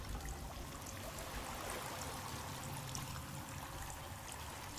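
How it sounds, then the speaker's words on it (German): Steady broadband rush of a waterfall in the survival game The Forest, a continuous even roar with no breaks, moderately loud and alone. "Ein Wasserfall"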